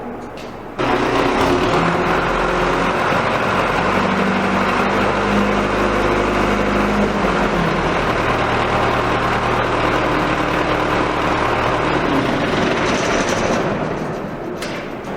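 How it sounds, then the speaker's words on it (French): Hydraulic motor on a BST drilling rig running with the throttle raised: a loud, dense mechanical roar and rattle starts abruptly and holds steady, easing slightly toward the end. "Donc quand vous ajoutez le gaz dans le moteur, c'est ajouter la pression dans le moteur. Donc la vitesse de rotation du moteur hydraulique ça augmente."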